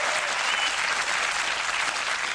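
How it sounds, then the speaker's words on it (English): Studio audience applause on a comedy show, a steady dense wash of many hands clapping at once, loud and sustained throughout with no pauses. "Don't applaud him."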